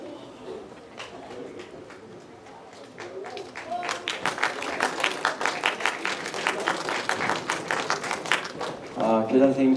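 Students applaud during a school Easter chapel service, a dense patter of clapping that builds from scattered claps into steady applause for several seconds, with voices murmuring underneath.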